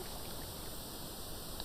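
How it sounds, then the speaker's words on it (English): Water from a Minecraft waterfall flows in a steady, faint wash of rushing noise with no pauses or splashes standing out. "That's going to open up a waterfall."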